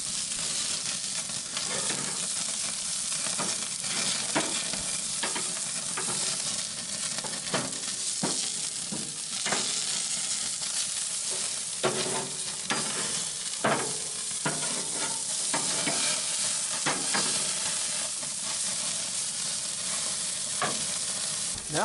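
Goose leg quarters sizzle steadily on a grill as they are flipped partway through searing. A loud, close hiss carries on without a break, with crackles and pops scattered through it and no voices.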